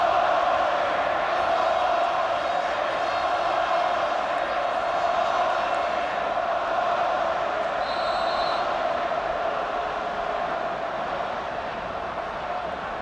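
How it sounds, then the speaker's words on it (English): A football stadium crowd at an Australia versus Iran match roars in a sustained, dense wash of voices, loud and steady with whistles and shouts woven through, fading slightly toward the end. "The crowd making it fairly clear what they feel about the decision"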